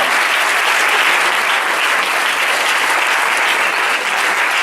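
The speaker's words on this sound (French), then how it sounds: "On peut les applaudir, tout le monde le mérite bien." Sustained applause from a conference audience, dense and steady throughout at close range, with no speech over it.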